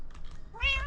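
A cat meows in the video game Minecraft, one clear rising and falling call near the end after faint earlier chirps, close and alone.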